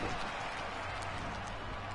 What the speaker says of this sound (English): just the crowd noise already is just so much louder